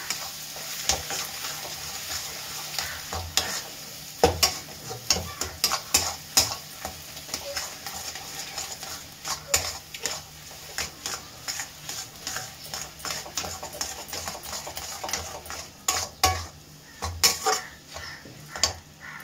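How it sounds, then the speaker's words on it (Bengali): Potatoes fry in a kadai, a steady close sizzle broken by frequent sharp scrapes and clinks as a utensil stirs them against the pan, with no talking. "ভালো করে মিশিয়ে নিচ্ছি। দেখেন পুরোটা এটা ফ্রাই হয়ে যাবে।"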